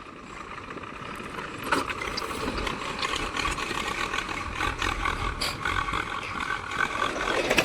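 A tractor ploughing a grass field grinds on with a steady, rough engine roar, near and fairly loud, with uneven surges and gritty broadband noise throughout.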